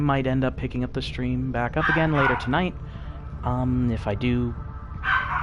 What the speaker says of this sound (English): due to the dog barking in the background